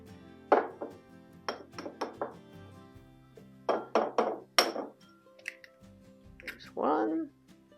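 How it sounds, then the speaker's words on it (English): Two eggs cracked into a dish for a simple home lunch: sharp taps and clinks of shell against the dish edge, several knocks in short bursts, close and clear, with a final wet slide as the contents drop in. "I'm going to crack 2 eggs into a dish."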